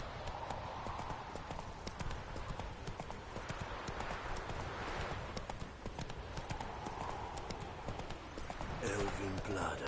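Hoofbeats of Roach, a horse in the video game The Witcher 3, pound in a steady galloping clip-clop rhythm throughout, loud and close, with a voice talking over them.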